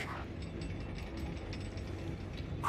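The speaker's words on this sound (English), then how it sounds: "I do notice there is a delay on the servo a little bit" A heavy weapon's servo in a Warhammer-style video game, playing as a Techmarine, whirs and ratchets mechanically for a moment before firing, a short continuous grinding spin-up with no voices.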